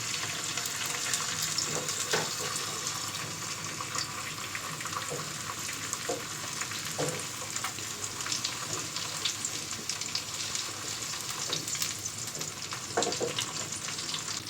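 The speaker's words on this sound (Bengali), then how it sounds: "কড়াইয়ের তেলটা গরম হয়ে গেছে এখন এটার মধ্যে ডিম এখান থেকে কিছুটা দিয়ে দিব" Eggs fry steadily in hot oil in a wok, giving a constant close sizzle with small crackling pops throughout and no voices.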